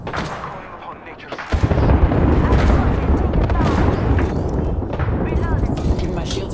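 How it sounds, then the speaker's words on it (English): Airstrike explosions in a video game hit as a loud rolling boom that then continues as a sustained rumbling barrage, with players talking over it. "Airstrike."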